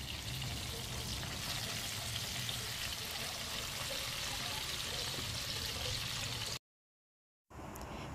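Hilsa fish pieces fry in hot oil in a pan, a steady close sizzle and crackle lasting several seconds before cutting out abruptly, then resuming faintly.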